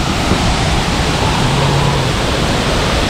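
Water pours into a natural pool in the southwest Dominican Republic, a loud, constant rushing roar like a small waterfall, close by and steady, with no voices over it.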